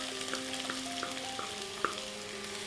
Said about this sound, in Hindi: तेल गर्म हो गया है। अब हम इसमें प्याज डाल लेते हैं